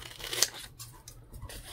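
A single quick snip of scissors trimming off part of a book page during a craft project, a brief sharp cut near the start amid quiet room noise.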